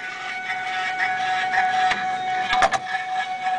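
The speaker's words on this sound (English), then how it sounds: "Right here, you have the motor, and what it's doing is it's turning the dial of the lock when it's trying the different combinations." A small motor in a padlock combination solver turns the lock's dial, a steady mechanical whirring hum with a few brief clicks near the end, close and alone.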